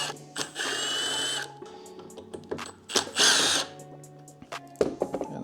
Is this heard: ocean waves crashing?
no